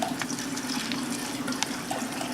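Water drains and trickles off freshly rinsed alfalfa sprouts in a steady, close splashing stream with small droplet ticks on top.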